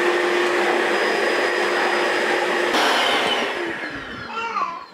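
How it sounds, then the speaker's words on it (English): A household vacuum cleaner runs loud and close with a steady whining roar, then winds down and fades near the end. "It's always a bad idea to bring out the vacuum."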